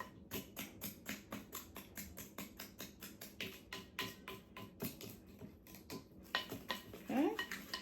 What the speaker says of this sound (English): we're just gonna stir that up,